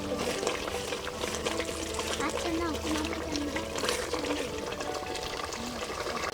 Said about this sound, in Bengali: আমরা মাংসটা ঢেলে দেব।